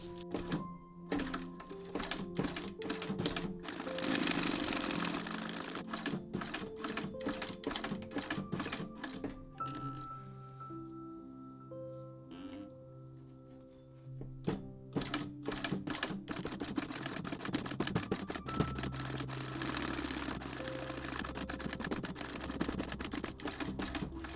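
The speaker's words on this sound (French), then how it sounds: "je vais pouvoir passer à la machine à coudre pour coudre les rembords avant le montage final" A sewing machine stitching the edges of a leather pouch, a steady rapid mechanical clatter that runs for over twenty seconds with brief changes in pace and no talking.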